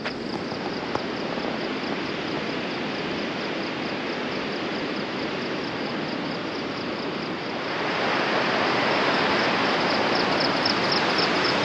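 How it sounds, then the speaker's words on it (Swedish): Waterfall on the Annapurna Circuit trek in Nepal roars as a dense, continuous rush of water close by, growing slightly louder toward the end. "här har vi första vattenfallet i Nepal för mig"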